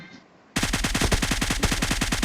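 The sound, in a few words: gunshots in video game PUBG Mobile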